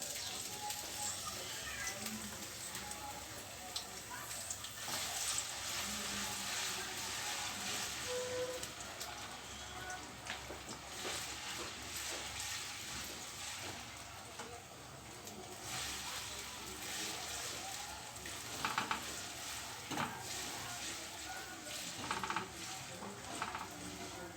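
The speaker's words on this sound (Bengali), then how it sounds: "তেল গরম হয়ে গিয়েছে আমি দিয়ে দিচ্ছি অনিয়ন পেস্টটা" Onion paste hitting hot oil while a Bengali rupchanda fish curry is cooked, giving a steady, broad sizzle and hiss that runs throughout with faint stirring, with some talking underneath.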